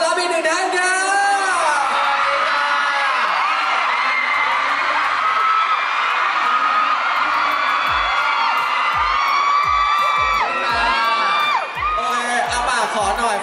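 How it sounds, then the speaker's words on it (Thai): A fan-festival crowd of idol fans cheers and screams in high, squealing whoops, loud and continuous throughout, with shouts rising and falling and a voice calling out near the end. "ขอเสียงปรบมือต้อนรับอีกหนึ่งท่านครับ"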